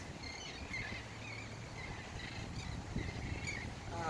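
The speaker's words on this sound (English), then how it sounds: "Listen to the birds." Faint birdsong chirps over steady outdoor background noise, with soft high calls repeating intermittently.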